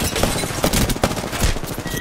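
Dense, loud rapid gunfire in an Apex Legends match, overlapping shots and bursts filling the whole clip at close range with no pauses.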